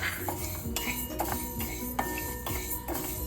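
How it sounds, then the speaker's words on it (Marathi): A metal spoon scrapes and clinks against a heated kadhai while moong dal is dry-roasted and stirred, irregular close scraping strokes and light taps repeating for a few seconds. "आता आपण त्यात मुगाची डाळ थोडी भाजून घेऊया।"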